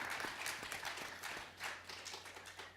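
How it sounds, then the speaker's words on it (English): Sparse, fairly faint audience clapping follows a talk at a climate summit, a few distinct claps scattered over a soft wash of applause with no voices. "Yes, please an applause."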